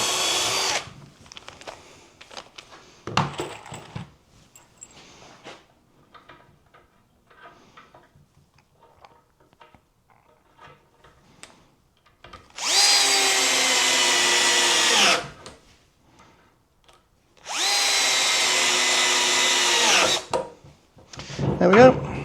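Power drill driving screws into reclaimed oak timber for a strawberry planter box, two long steady whirring bursts of a couple of seconds each, close and loud, after quiet handling and light tapping, with brief talk early on.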